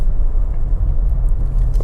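A rented V6 Dodge Challenger drives along, its engine a steady low rumble close by, with road and tyre noise filling the background and no one talking.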